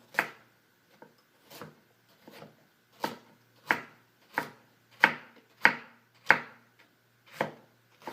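A knife chops mushrooms and carrots on a wooden board, about a dozen crisp, evenly spaced strikes, close and clear with no talking.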